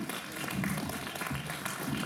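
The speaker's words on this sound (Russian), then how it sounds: "И ваши аплодисменты." An audience applauds the musicians of a guitar studio at a year-end concert. The clapping is steady and dense for the whole stretch, moderately loud, with no voices.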